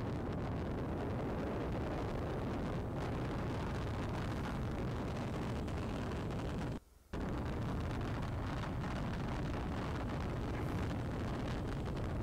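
Space shuttle rocket engines in the Brick Rigs video game roar as a loud, continuous broadband rumble, cut by a brief drop near the middle, then resuming at full strength.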